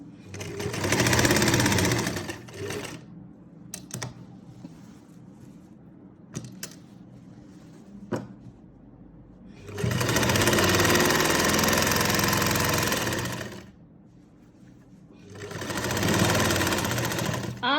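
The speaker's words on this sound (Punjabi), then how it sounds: "ਹੁਣ ਆਪਾਂ ਤੁਹਾਨੂੰ ਸਾਈਡ ਸਲਾਈ ਲਾ ਕੇ ਦਿਖਾਉਣੇ ਆਂਗੇ" A sewing machine stitches the side seam of a kurti in three long, steady runs of rapid mechanical whirring, separated by quiet pauses filled with small clicks and handling sounds.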